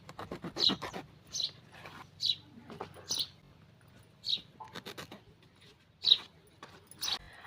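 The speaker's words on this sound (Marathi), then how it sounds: "आता ही आळूची पानं आपण ही देठापासून कापून घेऊया" Taro leaves being cut from their stems in a home kitchen: a series of short, crisp snips and crunchy cuts spaced about a second apart, fairly close and quiet.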